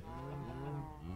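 A single drawn-out cow moo from the Minecraft video game, quiet and alone, lasting about a second with a rich buzzing tone.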